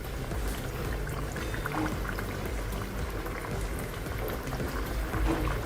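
Papaya puri fries in hot oil, a close, continuous bubbling sizzle with a busy crackle that holds steady throughout and has no talking.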